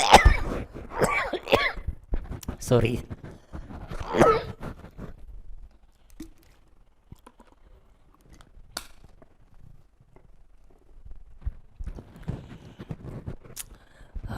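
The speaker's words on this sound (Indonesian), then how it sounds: "itu bukan batuk yang berisi virus" Several harsh coughs from a preacher during a church sermon come close together near the start, then the room falls mostly quiet apart from faint scattered noises.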